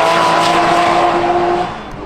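Loud, sustained roar of Lotus race cars on a track, engines droning steadily nearby before easing off slightly at the end.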